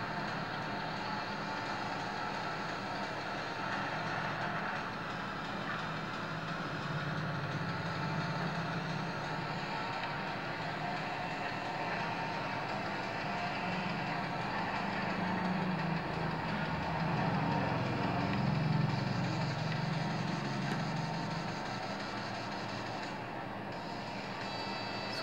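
Car engines from the Real Racing 3 game, played on a Moto G 2015 phone, drone in a continuous revving roar with shifting pitch throughout, fairly loud and unbroken, with no talking.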